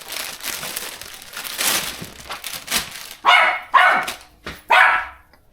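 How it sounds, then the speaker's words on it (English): A dog gives three loud, close barks in quick succession toward the end, after a stretch of crinkling and rustling like packaging being opened at a hot rod shop. "What are you doing, dog?"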